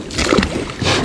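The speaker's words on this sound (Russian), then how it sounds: "На веслах." Oars pull a small fishing rowboat through the water while trolling without a motor, a brief loud surge of sloshing and splashing close by.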